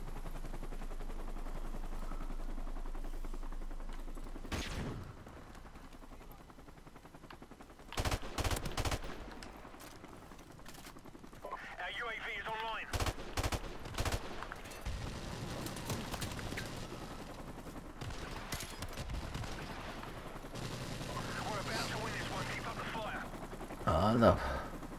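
Gunfire in Call of Duty Modern Warfare Remastered Prop Hunt mode: scattered sharp shots and short bursts, some loud and close, mixed with game noise and occasional talk.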